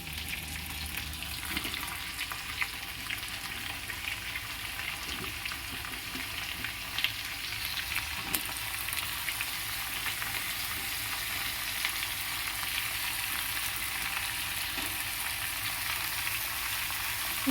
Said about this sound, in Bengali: ভাজা ভাজা হয়ে গেছে বেশি ভাজবো না অল্প ভাজবো